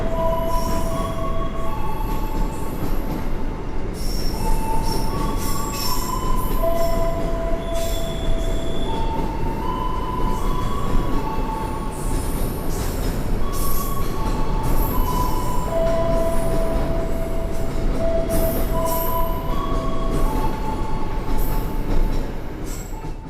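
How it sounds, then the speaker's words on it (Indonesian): A long 30-car container freight train rolls steadily past, its wheels squealing in repeated high metallic whines over a constant rumbling roar, with no talking. "Jadi memang untuk kereta-kereta barang peti kemas kayak gini, itu tuh panjang banget."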